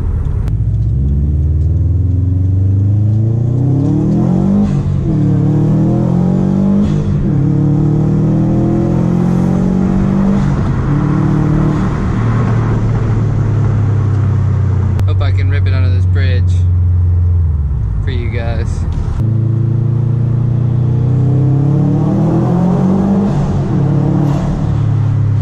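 2016 Subaru STI engine revving hard under acceleration, loud rising and falling sweeps repeating through gear changes with a deep rumble, close up, with someone talking over it at times.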